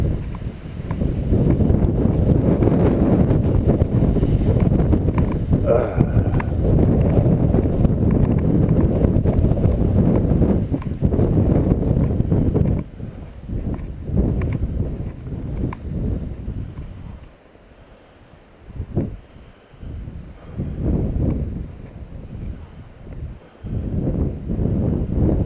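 Strong wind after a snowstorm buffets the microphone in a loud, roaring rush that eases and gusts back in waves, with a calmer lull late on.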